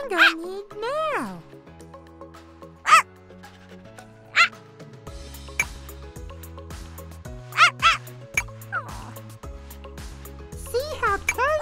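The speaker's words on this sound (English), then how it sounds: "See how Tango is jumping and barking and has lots of energy?" A cartoon puppy in a Sesame Street pet-care game gives several short, high yipping barks at irregular intervals over cheerful background music.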